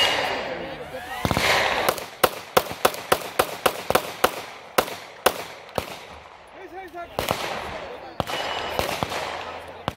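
Taurus GX4XL 9mm pistol fired at an outdoor range, around fifteen sharp loud cracks in an irregular string, some in quick pairs, with background voices and range noise between shots.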